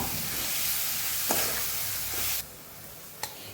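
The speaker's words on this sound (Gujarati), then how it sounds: "સરસ આપણે ચટણી સાથે ભાજીને સાતળી લેવાની છે" Fenugreek greens with chutney sautéing in a pan, a steady close sizzle with stirring scrapes and a couple of sharp clinks, the frying hiss dropping quieter near the end.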